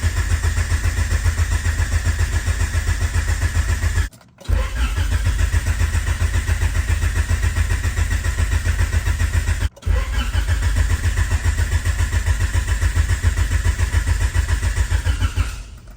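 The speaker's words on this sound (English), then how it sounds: "hopefully fire this engine up" A third-generation Honda Prelude engine runs loud and close with an open header, a steady rough mechanical drone broken by two brief cuts, with no voices over it.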